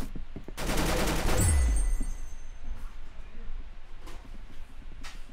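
A rapid burst of gunfire in the Roblox shooter game Arsenal opens the moment, loud for about a second, then fades into quieter scattered game sounds with a few faint distant shots.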